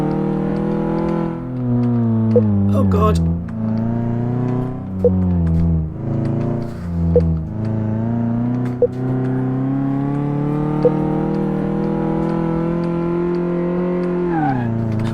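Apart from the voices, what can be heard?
car engine revving in Car Mechanic Simulator 2018 video game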